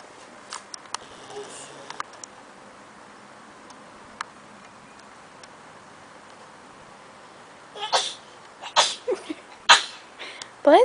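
A person sneezes near the end, short sharp bursts close by, following a long stretch of quiet room tone with faint scattered ticks.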